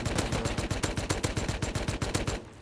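Rapid automatic gunfire in the survival video game Rust, a steady burst of about twenty close, loud shots in even rhythm that stops abruptly, with no talking.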